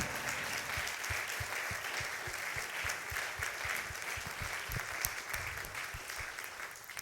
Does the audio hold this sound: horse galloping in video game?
no